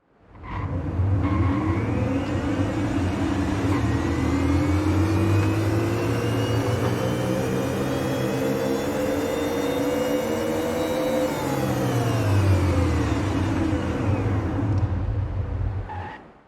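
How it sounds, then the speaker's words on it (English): In Forza Horizon 5, a car engine decelerates with a loud, close, whirring whine that sweeps down and then back up in pitch over a deep rumble, sustained for about fifteen seconds before cutting off. "the best part of this car's sound isn't the acceleration, but the deceleration"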